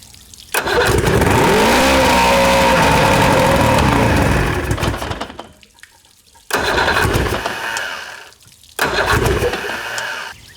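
A 1986 outboard boat motor starved of fuel: loud rough running that fades and dies, then two more brief surges of revving, each cutting out abruptly.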